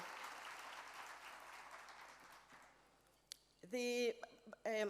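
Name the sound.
audience applause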